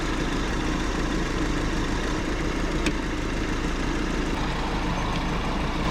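A 1984 Toyota dump truck sits with its engine idling, a steady, close, unbroken rumble that holds even for the whole stretch, with no voices.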